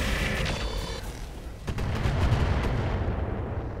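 Mech weapons firing all at once in the game Roguetech: a dense volley of heavy booming shots and rumbling impacts layered over each other, loud and sustained.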